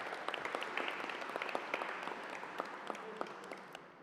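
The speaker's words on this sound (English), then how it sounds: "applause, please" A conference audience claps after a speech, the applause sounding distant and quiet, a steady patter of many hands with a few sharper individual claps.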